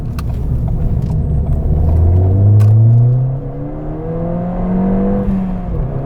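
A Ford Fiesta ST fitted with a Milltek exhaust revs up from inside the cabin at night, the engine climbing loudly through the gears, easing off, then pulling again with a deep rising drone and no talk.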